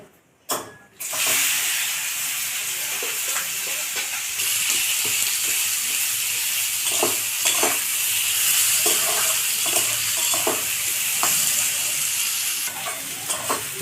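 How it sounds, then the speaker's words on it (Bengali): Chopped onions frying with whole garam masala for a homely mutton curry, stirred in a pan: a steady loud sizzle with repeated scraping stir strokes throughout, nobody talking. "পেঁয়াজগুলোকে দিয়ে লাল করে ভেজে নেব"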